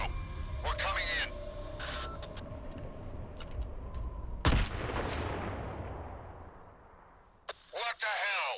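An explosion and gunfire in the video game STALKER 2, a sharp loud blast at mid-clip with a long rumbling decay, amid earlier crackling shots and radio-like voice chatter, with more voices at the end.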